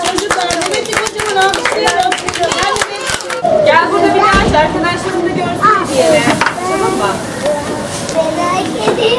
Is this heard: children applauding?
yes